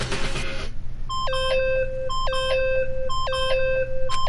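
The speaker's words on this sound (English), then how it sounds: "Stop that goddamn beeping and say something." Electronic beeping from the Danganronpa video game repeats in short bright tone patterns at a steady rhythm, after a burst of noise at the start, over a constant low hum.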